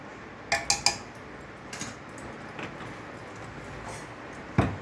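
Quiet kitchen scene of a spoon stirring cooked pulao rice with a spoonful of ghee in a pot, a quick run of metallic clinks early on, then a few softer taps and one louder knock near the end.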